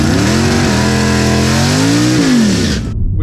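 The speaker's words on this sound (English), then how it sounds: "next pass is this Corvette with all the body panels stripped off of it" Stripped-body turbo C4 Corvette on a dragstrip, loud close engine roar rising in pitch through shifts across three seconds, then cutting off abruptly.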